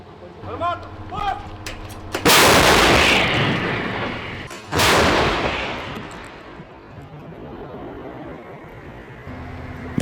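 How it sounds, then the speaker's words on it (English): A Ukrainian Bohdana self-propelled howitzer fires a shell in Donetsk Oblast, two loud, close blasts a couple of seconds apart, each decaying into a long rumbling tail, preceded by brief voices and mechanical noise. "They pull it to launch the shell. Better clear the back of the cannon when the blast hits."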